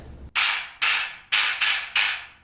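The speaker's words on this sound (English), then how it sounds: "It's the jawbone of a mule, and it has loose teeth so that they can rattle once you smash it." A mule jawbone percussion instrument with loose teeth, played for an orchestral piece, gives five loud, sharp strikes, each followed by a buzzing rattle that fades quickly; it is close and prominent, with no talk over it.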